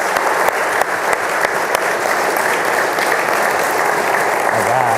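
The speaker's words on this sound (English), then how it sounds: "And another round of applause for these guys." Sustained audience applause fills a library society event hall, loud and steady from start to finish with a few sharper claps standing out, and no talking over it.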